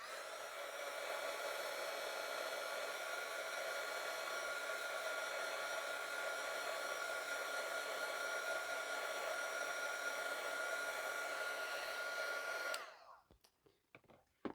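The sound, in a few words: hair dryer drying a craft project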